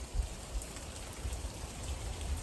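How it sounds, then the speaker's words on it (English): Steady rain falls outdoors in Oregon, a soft even hiss of drops with low rumbling gusts, fairly faint and unbroken, with no voices. "It's already raining again."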